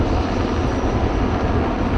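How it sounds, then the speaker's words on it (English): Helicopters trailing the start of an offshore powerboat race at Lake Pickwick in 2005: a steady, loud broadband engine and rotor roar fills the whole stretch with no pauses, droning continuously rather than in separate bursts. "So here they come, helicopters in tow"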